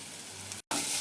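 Green chilies sizzle in hot oil, a steady, soft frying hiss that cuts out for an instant and then returns brighter and louder, with no talk over it.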